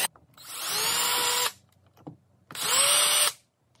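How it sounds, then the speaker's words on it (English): A power drill pre-drills screw holes for window blind brackets in two separate close bursts, each whining steadily for about a second before stopping, with a short pause between them. "So I'm going to pre-drill where the four screws will go."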